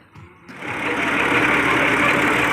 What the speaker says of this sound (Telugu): ట్రాక్టర్ చూడండి వెనక్కి వస్తే ఇబ్బంది అవుతుందని ఈ మిషన్ ఇంజిన్ వేసి వెనక్కి అయితే లాగుతుంది